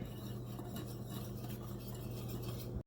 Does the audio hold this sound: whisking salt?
yes